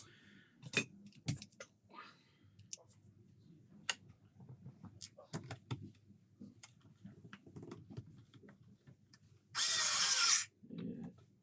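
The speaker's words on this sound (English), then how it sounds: "We'll get them screws in now to secure this in." Screws are driven in to secure a part on a CleanScreen V4 build: scattered clicks and taps of handling, then a short burst of a powered driver whirring near the end, with quiet gaps between.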